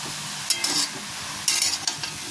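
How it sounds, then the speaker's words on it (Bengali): Grass pea greens sizzle in a frying pan as tomato and sugar are stirred in, with a few scraping, clattering bursts of the spoon over a steady low frying hiss. "এবার এর মধ্যে দিয়ে দেবো যে টমেটোটা রেখেছিলাম ওই টমেটোটা দিয়ে দিচ্ছি, আর 1 চামচ চিনি দিয়ে দেবো। এবার আমি নাড়াচাড়া করে নেব"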